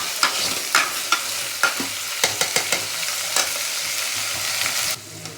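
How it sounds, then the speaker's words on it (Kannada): Toor dal and radish fry in a hot pan for sambar with a steady broadband sizzle, punctuated by sharp spatula stirs and scrapes at irregular intervals; the sizzle drops away abruptly near the end. "ಹೀಗೆ ಒಂದು ಐದು ನಿಮಿಷ ಕಾಳನ್ನ ಮತ್ತು ಮೂಲಂಗಿನ ಹಚ್ಚಿ ವಾಸನೆ ಹೋಗೋವರೆಗೂ ಫ್ರೈ ಮಾಡ್ಕೊಳ್ಳಿ"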